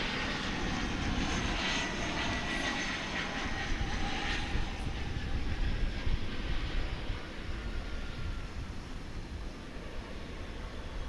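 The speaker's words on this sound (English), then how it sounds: "We've got coming in another regional flight from a Texas destination." A regional airliner arriving from Laredo, Texas, lands at DFW International Airport, its engines a steady broadband roar at moderate distance, holding level for about eleven seconds with no voices.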